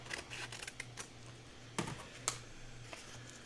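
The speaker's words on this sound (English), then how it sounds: "I'm just going to take my scissors and cut this shorter." Scissors cutting paper while assembling a mini album: a few sharp, quiet snips stand out among light tapping and handling clicks, with no talk over them.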